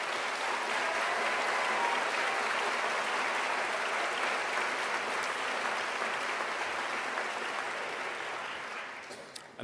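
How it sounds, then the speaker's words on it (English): A graduation ceremony audience gives the staff a long, dense round of applause, many hands clapping steadily before it thins and fades near the end. "I'd like to invite all of you to applaud the staff representatives that we have here today."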